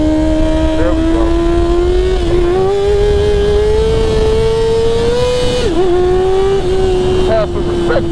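Yamaha motorcycle engine revving hard during a wheelie, loud sustained drone with small pitch wavers and a dip and recovery near the middle, a voice briefly heard over it.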